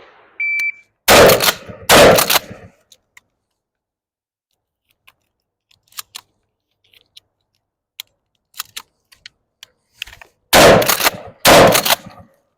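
A 12 gauge shotgun fires two loud shots in quick succession, then shells are loaded with faint clicks and clacks over several quiet seconds, followed by two more loud blasts close together.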